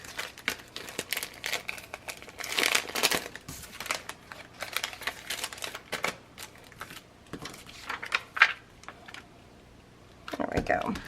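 Paper is peeled away and crinkled while prepping a Christmas album, with irregular close crackles and rustles coming in bursts and a louder crinkle near the end.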